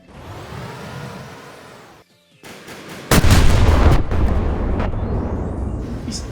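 Rapid gunfire from small turret guns on a vehicle in the Wreckfest racing game, loud bursts of shots over engine roar after a brief drop to near silence.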